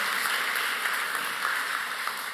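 A church congregation applauds steadily, a dense, even wash of many hands clapping together, sustained and fairly loud throughout with no voices rising above it.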